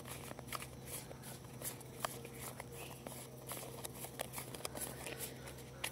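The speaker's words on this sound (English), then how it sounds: "I'm just going to start shuffling now." Tarot cards are shuffled by hand in a quiet room, giving soft, repeated riffling and papery clicks at an uneven rhythm. The sound is close but faint, with no talk.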